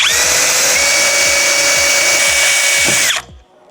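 A power drill bores through the sheet-metal body panel of a Mercedes Sprinter van, a loud steady high whine held for about three seconds before stopping abruptly, with faint knocks underneath.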